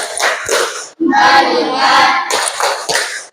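Children in a classroom clap a short counted rhythm during an ice-breaking game, with bursts of hand claps falling between a teacher's spoken count and chanting, close and lively.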